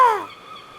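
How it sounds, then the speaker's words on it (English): Seagull cry used as an audio drama sound effect: a single short, harsh, descending squawk, fairly loud and close, fading quickly. "Seagulls."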